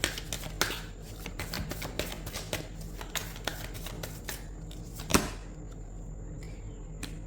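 Tarot cards are shuffled and drawn close up, a run of soft rapid flicks and slides with one louder slap, quiet and without speech.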